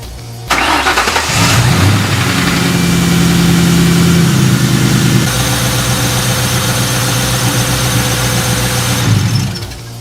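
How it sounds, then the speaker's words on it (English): A 2004 Ford Mustang GT, fresh from a spark plug and coil-on-plug installation, cranks and fires up, then runs loud and close with a steady idle and some revving before shutting off near the end. "Now the moment of truth to see if the car will start."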